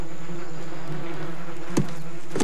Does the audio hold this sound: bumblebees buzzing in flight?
yes